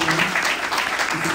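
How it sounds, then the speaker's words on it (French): Church congregation clapping together during a French-language worship service, a steady dense patter of many hands filling the room at moderate loudness with no pauses. "Applaudissons au Seigneur pour glorifier"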